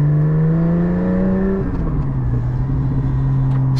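Porsche 718 GT4 fitted with Soul Performance over-axle pipes and a Soul Performance rear section with valves disconnected, its flat-six exhaust droning loud and close, revving up then settling into a steady cruising tone with no talk.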